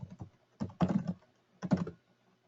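Keys on a computer keyboard are tapped in three quick bursts of close, clicky keystrokes while an email address is entered, with short quiet gaps between bursts.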